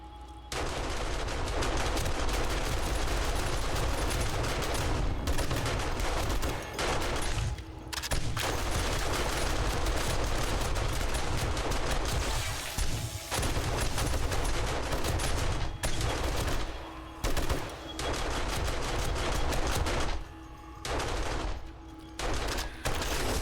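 Guns fire in rapid, sustained automatic bursts in the video game 7 Days to Die, loud and close, with brief gaps between volleys over about twenty seconds.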